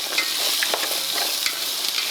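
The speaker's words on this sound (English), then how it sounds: "add the celery, add the leeks and garlic. All right, a little stir." Celery, leeks and garlic stirred in a pot, giving a steady bright sizzle with light scraping and clinking from the spoon, close up and without talk.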